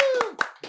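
A few scattered audience claps at the Ruang Bersuara stage event in Tangerang Selatan, sounding under a talking voice and quickly fading.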